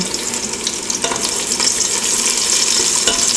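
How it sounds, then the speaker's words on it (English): An onion browning in a hot pan gives a steady, loud, close sizzle and fry with faint stirring, no voices over it. "Gonna brown the onion."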